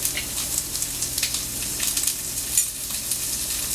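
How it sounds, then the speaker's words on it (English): Sliced onions cook with salt in a pan, left mostly unstirred to caramelize. A soft, steady sizzle and crackle runs throughout with small popping spurts, fairly quiet and close, and nobody speaks. "We just want to let the onions caramelize nicely"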